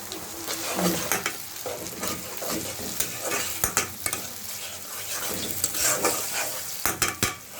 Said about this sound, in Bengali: কষাচ্ছি, আদা রসুন কষানো হয়ে গেলে